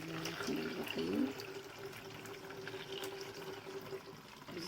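Water poured from a container into a kitchen sink at home, a soft steady splashing rush lasting throughout, fairly quiet with a brief louder burst early on.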